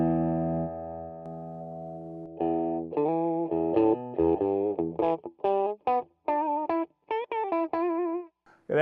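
Electric guitar run through a J Rockett IQ compressor pedal with an extreme EQ setting, playing sustained notes and then choppy staccato phrases with a strange, nasal, heavily filtered tone, loud and without talk.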